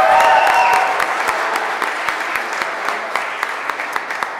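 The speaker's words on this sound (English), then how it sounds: "so round of applause" Applause at a Catholic school graduation ceremony: a crowd claps steadily, loud at first and then thinning, with distinct individual claps standing out over murmuring voices.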